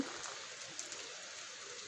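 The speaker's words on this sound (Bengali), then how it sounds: "ভোর রাত থেকে বৃষ্টি হচ্ছে" Steady early-morning rain falls continuously on a village in Bangladesh under cloudy skies, a soft broadband hiss with faint scattered drop patter, no voices.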